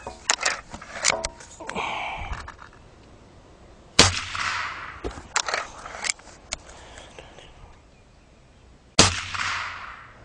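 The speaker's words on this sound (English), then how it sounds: "so we just shot the RWS Hobby pellets, which are pretty much the industry baseline for velocity" A Gamo Hunter Extreme .177 air rifle fires RWS Hobby pellets: two sharp, close cracks about five seconds apart, with scattered mechanical clicks and handling knocks around them.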